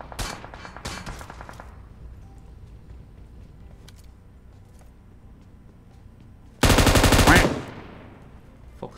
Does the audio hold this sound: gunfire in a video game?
yes